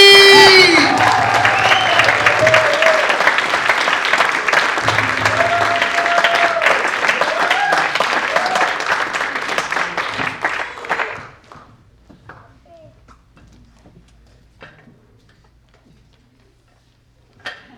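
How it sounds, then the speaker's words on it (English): Audience at a poetry reading event applauds and cheers for a poet on stage, dense clapping with whistles and shouts running loud for about ten seconds before thinning out into scattered claps and quiet room noise. "Keep making noise for the next poet on this stage."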